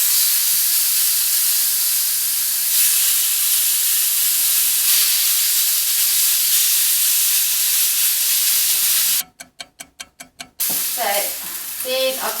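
Chicken satay pieces cooking on a very hot griddle pan, a loud steady sizzle and hiss for several seconds, then a burst of rapid rhythmic clatter and a few sharp scrapes.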